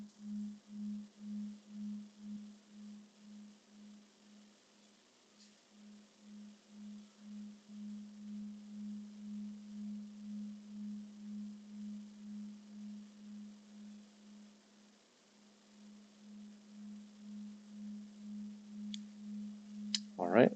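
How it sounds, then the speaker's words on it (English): A synth plays a pure sine-wave tone that holds steady and pulses softly in a slow, regular wobble for about twenty seconds, then ends in a brief louder burst. "create a pure sine wave tone, which doesn't always sound great"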